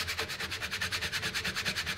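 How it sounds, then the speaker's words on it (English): Sandpaper rubs back and forth over scroll-sawn wooden lettering in quick, even strokes, about eight per second, close and moderately quiet, with no talking. "We've got some sandpaper there to sand out the lines."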